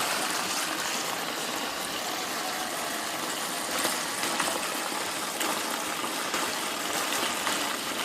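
Water gushes steadily into a Mueller SuperPop washing machine as it fills, a constant close rushing and splashing hiss that holds an even level throughout with no talking.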